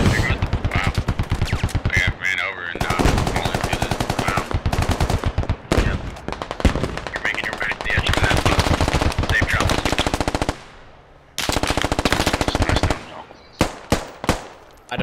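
Video game gunfire during an airfield assault: dense, loud bursts of automatic weapon fire hammer almost continuously, broken by a short lull and then a few isolated shots near the end.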